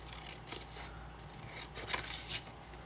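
Scissors snipping through scrapbook paper to trim pockets, a few short crisp cuts spaced irregularly, quiet and close with no talking.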